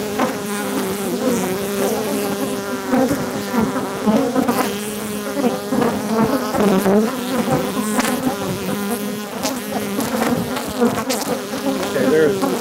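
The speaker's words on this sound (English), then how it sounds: "Like all these bees are trying to fight with love." A dense swarm of bees buzzes loudly and continuously right up close, thousands of wings humming in a thick, steady drone with layered overtones throughout, during a tree-cutting job where a beehive was disturbed.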